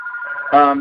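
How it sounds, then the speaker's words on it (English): A telephone rings indoors, its bright tonal electronic chime sounding steadily at moderate loudness before swelling fuller near the end, heard alone with no talk over it. "Sorry about the phone."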